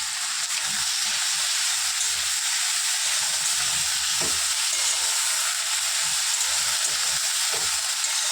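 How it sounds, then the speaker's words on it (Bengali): A prawn-flavoured mixture frying in a pan, a constant bright sizzle and hiss, close and steady throughout, with a few faint knocks of stirring underneath and no voices. "এটা একটু ভালো করে লাল লাল করে ভেজে নেব"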